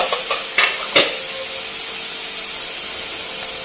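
Onions frying in white cooking oil in a pan, a steady bright sizzle that runs throughout, with a few quick stirring scrapes and clicks near the start.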